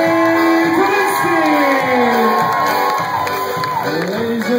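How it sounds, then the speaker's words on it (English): A polka show crowd cheers and whoops loudly throughout, a dense continuous roar of voices with shouts rising over it, while a stage announcer's voice carries on top. "Give a nice round of applause, Michael J. Kaminsky!"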